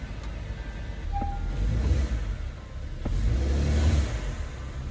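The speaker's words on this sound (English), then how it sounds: "Start it up. I just changed your oil too, so I'm gonna let it idle for a little bit." A Subaru Ascent 2.4L turbo engine idles with a steady low rumble, its hum swelling slightly midway, heard from inside the car with no speech.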